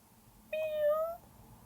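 A single clear cat meow, close and fairly loud, with a drawn-out tonal cry of about half a second over a faint background hiss.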